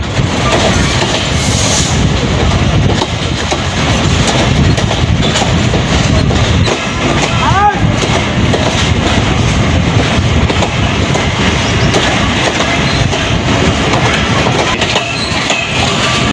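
The Titumir Express rumbles and clatters loudly as it rolls into Phulbari railway station, wheels clicking over rail joints with a brief squeal.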